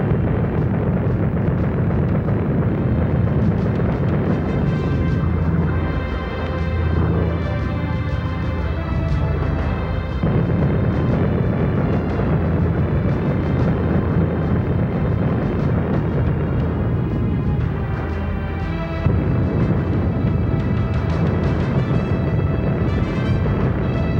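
B-29 Superfortress bombs explode in a strategic bombing raid, a loud, continuous roar of dense, overlapping blasts and rumble across the whole stretch, with no voices heard.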